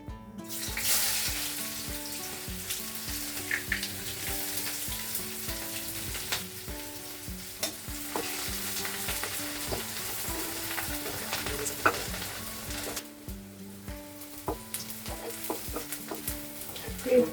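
Onions dropped into hot oil for pumpkin chorchori, sizzling and crackling loudly right after going in, then frying steadily with occasional stirring clinks and scrapes; background music runs underneath throughout.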